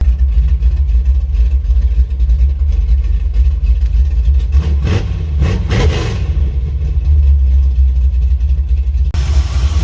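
A 1985 Chevrolet C10 pickup with a ZZ4 350 V8 idling steadily and loudly nearby after a fuel problem, with a brief rev swelling in the middle before it settles back into a rough, continuous rumble.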